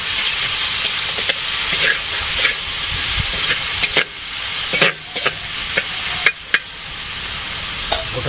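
Whole soybeans frying in a pan for a village-style vegetarian curry, a steady loud sizzle with occasional sharp crackles and stirring scrapes, close by and with no talk.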